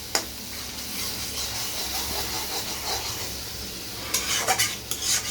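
Spice paste being stirred and sautéed in oil in a pan, a steady soft sizzle under continuous scraping strokes, with a few sharper metallic clinks of the utensil near the end.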